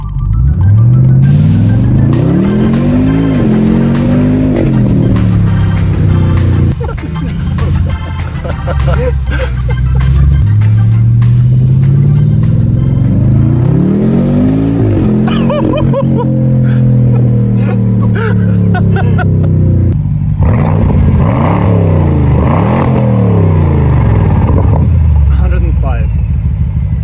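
A BMW 650i M Sport fitted with an upgraded exhaust is revved while standing still, a loud, deep V8 roar rising and falling in several repeated surges, with people talking between and over the revs.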